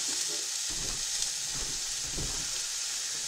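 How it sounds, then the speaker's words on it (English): Smash burger patties fry in a cast iron pan, giving a steady, fairly quiet sizzle and hiss that runs unbroken the whole time, with no voices. "Let them get frying."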